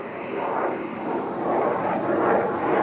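Fighter jets taking off, heard as a steady, loud roar of jet engines that swells slightly and rumbles on without pause. No voices.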